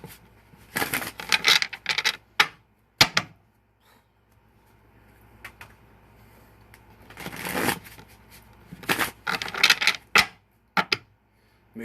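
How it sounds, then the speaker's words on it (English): Tarot cards being shuffled by hand in repeated riffling bursts, close and crisp, with brief quiet pauses between rounds of mixing. "I'm gonna go ahead and give it an extra shuffle"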